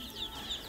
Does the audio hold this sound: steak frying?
no